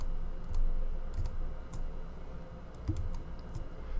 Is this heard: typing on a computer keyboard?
yes